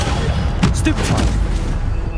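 Stunning spell bursts in Hogwarts Legacy combat: a couple of sharp blasts punch through steady loud rumbling and clatter of a busy duel.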